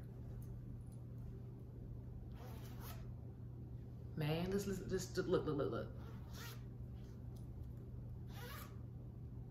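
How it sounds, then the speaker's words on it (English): A zipper on a Colombian faja compression garment is drawn up in one longer rasping pull with a few short zips around it, close up, while someone talks briefly. "I know that it's a Colombian Faja. I know that the booty part is amazing. And guess what? It zips."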